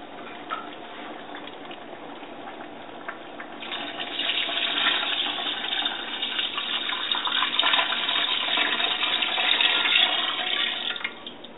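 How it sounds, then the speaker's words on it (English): Water pouring steadily into a stew pot over browned meat and vegetables, a continuous splashing rush that swells louder partway through and carries on alone with no talk. "And then you want to add water. Just to cover it up."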